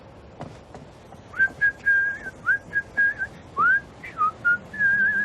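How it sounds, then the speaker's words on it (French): A person whistles a cheerful Christmas tune in a toy workshop, a clear melodic phrase of short and sustained notes, close and alone over faint room noise. "je siffle des chants de Noël"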